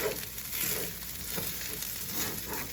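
Fried rice sizzles and crackles steadily in a hot pan, a continuous close frying hiss with occasional stirring scrapes.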